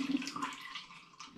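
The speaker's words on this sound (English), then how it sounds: "I'm going to add a little bit more water." Water being poured into a demijohn while home brewing plum cider, a short, faint splashing trickle that stays fairly steady and quiet.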